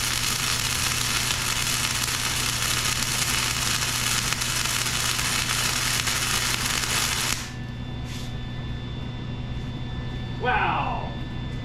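Welding on powder-coated parts for a PM-30MV milling machine. A steady crackling hiss lasts about seven seconds and then cuts off, leaving a quiet room with a few faint handling noises.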